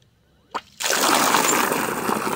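Fresh water pours steadily into a dog's bowl in freezing weather, a continuous splashing rush after a brief knock, close and fairly loud.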